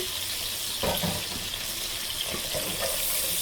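Water runs steadily from a kitchen tap while golda prawn heads are cleaned of grime by hand, a continuous wash of flow with a few faint splashes and handling sounds.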